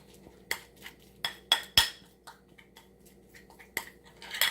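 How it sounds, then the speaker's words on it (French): A utensil mixes a lemon soap face mask in a bowl, producing a series of quiet, irregular clinks and scrapes, each short and close, separated by near silence. "On mélange bien le tout."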